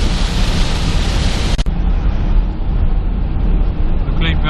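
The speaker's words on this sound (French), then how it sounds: "il pleut un petit peu moins, mais il pleut toujours" Rain drums steadily on a vehicle during a road trip drive in northern Australia, a loud dense hiss with low road rumble under it and a brief thud partway through.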